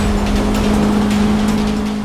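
Engine roaring steadily in a Need for Speed Rivals race through a tunnel, a loud sustained drone with a strong low hum and airy rush, no breaks across the short stretch.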